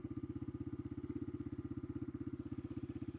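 A motorcycle engine runs at a steady, fast, pulsing idle at Mangla Dam's Thal Point, a rhythmic low thump repeating evenly throughout, moderately distant and alone without voices.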